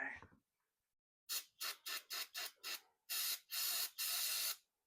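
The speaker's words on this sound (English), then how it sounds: "Any carbon choke cleaner left in here?" Carburetor choke cleaner is sprayed from an aerosol can onto a greasy steering box of a 1957 Chevy, with a series of short hissing bursts followed by three longer sprays, close and loud.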